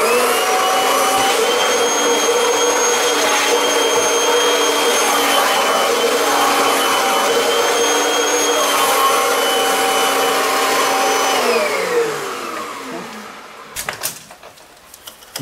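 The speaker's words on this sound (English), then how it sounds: "first of all, go over with the duster brush, which is another use for it." A Kirby vacuum cleaner with a duster brush roars steadily while clearing cobwebs, then the motor winds down and stops, followed by a few clunks and taps from handling the machine.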